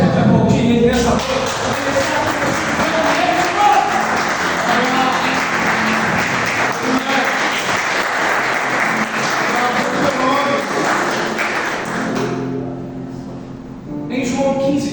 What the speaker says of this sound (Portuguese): Você pode aplaudir ele nessa noite.